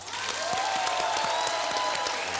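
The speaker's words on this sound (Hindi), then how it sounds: "तालियां!" Studio audience on a TV reality show applauds steadily, a dense, continuous patter of clapping at even loudness throughout, with no talk over it.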